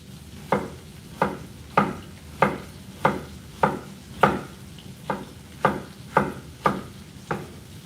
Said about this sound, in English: We're going to go ahead and cut up our onions.